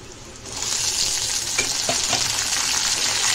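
Tomatoes frying in hot oil with chilli and garlic for an okra dish, a loud continuous sizzle that swells and stays bright, with a few faint stirring taps.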